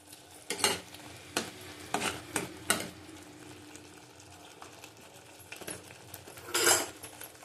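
Katla fish curry being sautéed in a pan, with a faint background sizzle broken by sharp, irregular scrapes and clinks of a spoon stirring against the metal, several close strokes in bursts.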